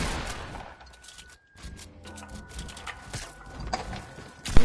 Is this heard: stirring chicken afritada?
no